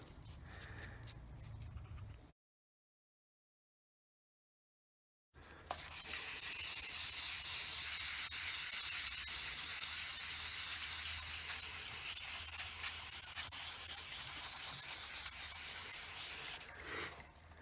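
Someone hand-sands a Honda FourTrax ATV plastic dash with 400 grit sandpaper, making a steady, close scratchy rubbing that runs on without a break after a short silent gap.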